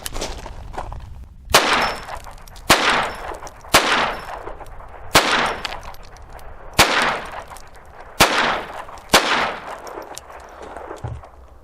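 Single shots from a Hammerli 1911 pistol in .22 LR ring out one at a time at an outdoor range, about nine sharp cracks at irregular one-to-two-second intervals, each followed by a short ringing decay.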